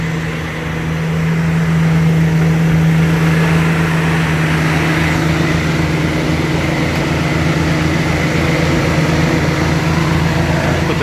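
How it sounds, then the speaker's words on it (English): A 1987 Jeep Wrangler YJ engine runs close by with a steady, even idle hum and a low droning tone, holding at one level for the whole stretch with no clear rise in revs. "I'll show you the engine first before we shut it off while it's running"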